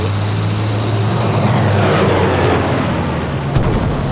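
A loud, steady airplane engine drone roars throughout in the video game Battlefield V, with a brief sharp burst near the end.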